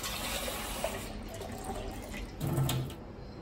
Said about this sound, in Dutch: Ik vul de maaltijd met 500 ml water.